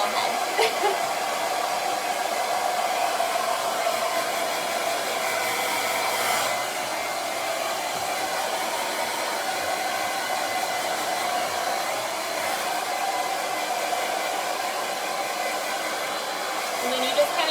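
A hair dryer blows steadily while drying hair, a continuous loud whoosh with small shifts in tone as it moves around the head, running without pause and with no talking.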